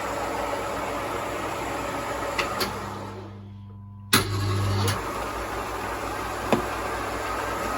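A Smart & Brown lathe saddle runs forward under power feed, a steady mechanical hum that briefly drops away then resumes with a clunk of engagement and a few light knocks, close and without speech.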